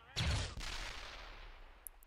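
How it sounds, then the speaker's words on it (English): Explosions and gunfire roar in the background of a Star Wars video game battle, a loud burst up front easing into a continuous rumbling barrage. "they just hear explosions in the background"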